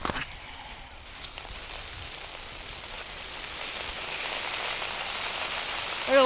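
Water gushes under strong pressure from a well pump outlet, a steady loud hiss and splash close by that swells slightly and continues throughout.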